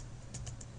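Soft clicking keystrokes, a handful of quick taps with a low steady hum underneath, close and fairly quiet.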